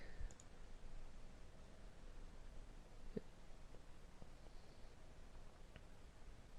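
Single quiet mouse clicks in a computer bridge-design program, a few isolated taps over faint room hiss with no talking.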